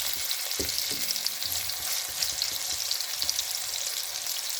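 Steady sizzling of sliced onions frying in hot oil for tempering sarson ka saag, with a few stirring clatters near the start, close and continuous.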